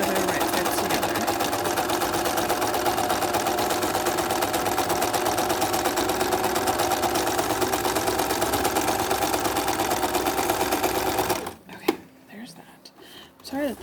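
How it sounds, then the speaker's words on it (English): A home sewing machine stitches fabric for a face mask, running in a steady, fast, whirring rattle for about eleven seconds before stopping, followed by a few faint handling sounds. "So sewing my outsides together, right sides together."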